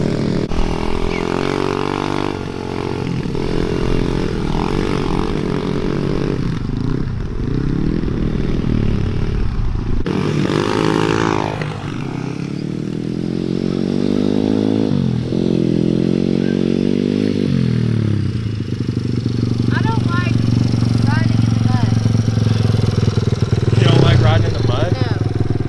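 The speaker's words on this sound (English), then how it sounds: "Craig's old CRF 70." A Honda CRF70 pit bike engine runs continuously nearby, rising and falling as it revs, while people talk over it.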